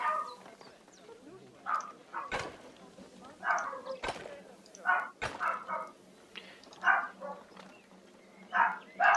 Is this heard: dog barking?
yes